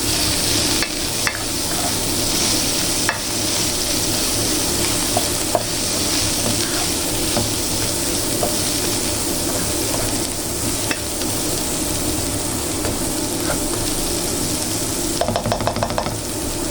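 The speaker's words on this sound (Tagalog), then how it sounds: "Hahaluin lang natin." Bitter gourd (ampalaya) fries in a pan while it is stirred, giving a loud, continuous sizzle with light scrapes and clinks of the utensil. A brief clatter comes near the end.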